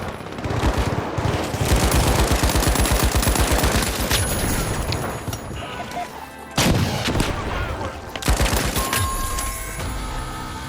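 Sustained rapid automatic gunfire in a video game, dense bursts of loud close shots with brief gaps and a few heavier booms, no voices over it.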